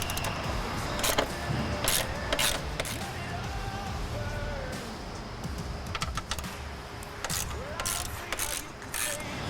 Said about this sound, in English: Remove the 6 screws securing the support bracket to the vehicle.